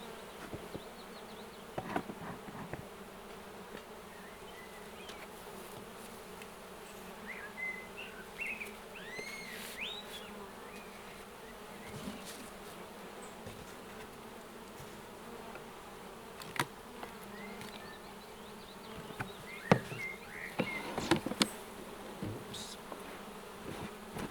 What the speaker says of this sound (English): I just take a quick look down there because I don't want to annoy the bees too much